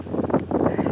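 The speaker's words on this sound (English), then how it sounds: "It is quite windy" Gusty wind buffets the microphone in rumbling, uneven bursts, loud and close throughout the short moment, outdoors near Fort Laramie, Wyoming.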